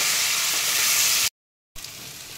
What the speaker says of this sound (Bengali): এবার এই মশলাটা দিয়ে ভালো করে কষিয়ে নেব।